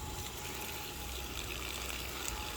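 Water runs from a pond through a free, kinked garden hose as a weak flow, a steady faint gushing hiss heard alone.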